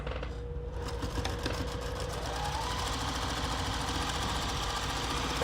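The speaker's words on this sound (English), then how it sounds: "And then we're going to do a 1/4 inch" A sewing machine stitches a quarter-inch seam on a churn dash quilt block, a rapid, even mechanical whirring and needle clatter that starts after a brief pause and runs steadily up close, with no speech.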